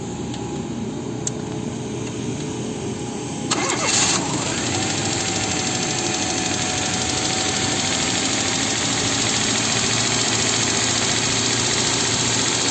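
A carburetted car running on LPG starts up and settles into a loud, steady, high idle, its engine drone continuing alone without a break after the brief cranking.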